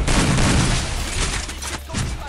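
Gunfire in the video game Free Fire: a loud, dense burst of rapid shots and booms that fades over about two seconds and flares briefly again near the end, with no clear talking.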